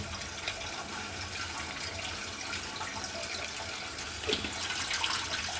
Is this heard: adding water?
yes